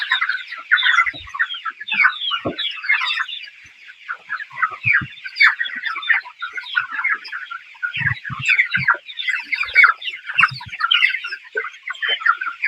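Broiler chicks in a poultry house chirp continuously in a dense, high-pitched chorus with a few soft low thumps and shuffles underneath, close and steady throughout.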